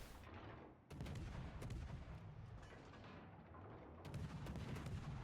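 Ship guns firing in World of Warships, a run of heavy booming salvos over a dense, rumbling battle din, with sharp blasts near the start and again toward the end.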